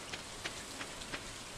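Steady rain from the Stardew Valley farming game, a soft continuous hiss with faint, evenly spaced taps, without voices.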